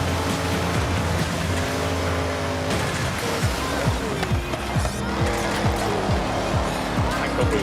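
A powerful race car engine roars and revs in Forza Horizon 6, with rising and falling gear shifts and some tire squeal, loud and close throughout.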